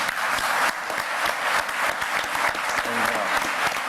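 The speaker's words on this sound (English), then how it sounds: "we ought to all give all of those guys a good round of applause" A forum audience at a St. Bernard Parish Chamber of Commerce political event applauds the parish president candidates with a steady, dense roomful of clapping that holds loud throughout, with a few voices mixed in.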